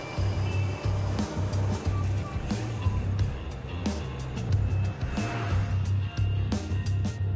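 A car rolls along on an expedition, its engine and road rumble forming a steady, fairly loud drone with scattered knocks and rattles, while a voice speaks faintly underneath.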